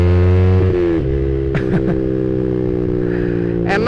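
A Yamaha Vixion R motorcycle engine revs hard in second gear, running close to the limiter. The steady, loud, close engine drone drops briefly in pitch, with a few sharp mechanical clatters in the middle and near the end.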